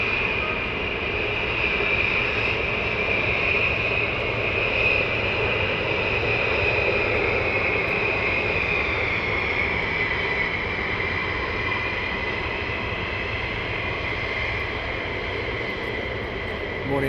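A military aircraft at RAF Lakenheath during surge operations produces a continuous, loud engine roar with a slowly shifting whine as it passes, steady and unbroken throughout with no talk over it.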